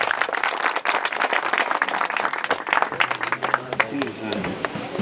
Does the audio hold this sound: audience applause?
yes